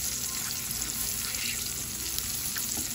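Vegetables sauté in a pan, cooked to a crisp, al dente state, with a soft, continuous sizzle and occasional light pops at low volume, and no talking.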